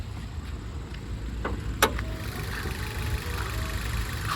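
A six-year-old Maruti WagonR petrol engine idles quietly, a soft steady low rumble with a brief click partway through, no voices heard.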